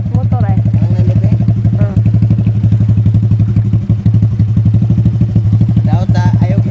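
Motorcycle riding on a joyride along a river, a loud, close engine drone with a steady rumbling throb and occasional clattering bumps, while people talk over it.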